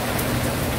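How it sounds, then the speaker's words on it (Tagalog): Strong wind and rain roar together as a dense, steady wash of noise, loud and close throughout with no gaps, during a rainy laundry day at home. "ang lakas ng hangin tsaka ulan"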